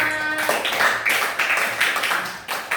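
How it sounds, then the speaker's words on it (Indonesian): Classroom applause for a student group in an Indonesian lesson: a short, busy patter of hands clapping close by, with a brief tonal voice at the start. "tepuk tangan untuk kelompok 5"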